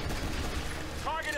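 Rapid gunfire crackles in the video game XCOM Declassified, a dense continuous burst of shots with a voice speaking over it near the end.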